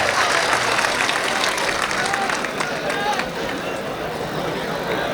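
Audience applause and crowd noise at a mushaira poetry gathering, a steady wash of clapping and murmur that holds at an even level throughout.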